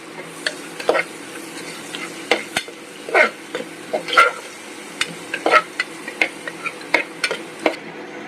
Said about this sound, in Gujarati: હવે ડુંગળી સુધારેલી છે એ